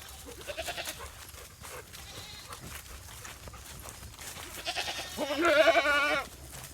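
Goats bleating while being herded, several scattered calls ending in one loud, wavering bleat near the end, over outdoor background noise.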